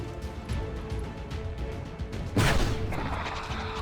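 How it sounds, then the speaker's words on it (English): A loud shotgun blast goes off in XCOM 2 as the soldier Barkara fires his shotgun, one heavy burst that rises out of a low background rumble and leaves a long noisy tail. "Charge Barkara up with his mighty shotgun and do 1 to 4."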